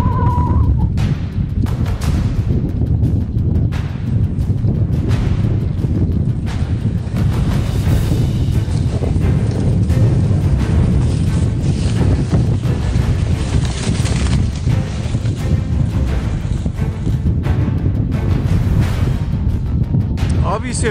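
Strong wind blowing through an Arctic valley, roaring and buffeting the microphone continuously and loudly throughout.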